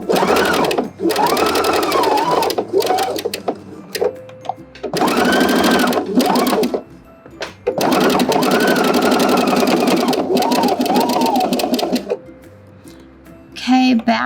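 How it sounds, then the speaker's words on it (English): A sewing machine zigzag stitching over a buttonhole runs in several loud, close bursts of rapid mechanical whirring, separated by short pauses, with a voice talking in between. "So I'm gonna go ahead and just stitch right over where the zigzag stitch should be."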